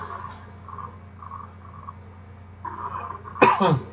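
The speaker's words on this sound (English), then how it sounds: "Forgive my coughing" A single sharp cough bursts out near the end after quiet murmuring sounds, loud and close against a soft background hum.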